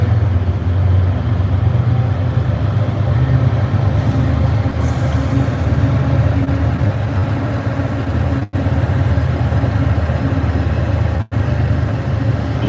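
Heavy low engine roar aboard a 4,600-horsepower train departing Quincy Center toward South Station, a steady loud rumble with constant mechanical drone throughout and two brief dropouts.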